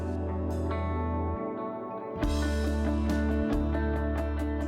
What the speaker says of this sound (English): it's a pretty good sounding reverb that you can use even without a reverb pedal